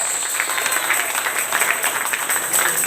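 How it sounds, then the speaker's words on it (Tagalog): A church congregation claps together in a steady, even patter of many hands, close and continuous for a few seconds with no talking over it. "Palakpak niwat para sa Diyos"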